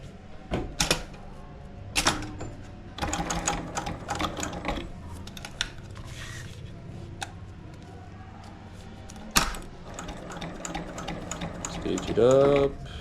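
A sewing machine stitches female velcro onto both sides of an elastic strap, running in quick, rattling ticking bursts separated by short pauses, close and clear, with a brief tonal whine near the end.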